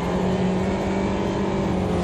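Engine note of a MINI race car at Le Mans in Automobilista 2, a steady, loud droning hum held throughout without clear revving peaks.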